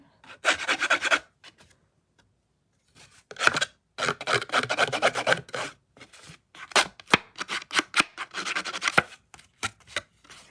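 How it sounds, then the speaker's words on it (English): A scissor blade is dragged along the edges of cardstock to rough them up for a stamped pear card, giving bursts of dry rubbing and rasping strokes in rhythmic groups with short pauses, close and fairly loud. "So I just use the edge of my scissors like this to just ragged up the edges a little bit."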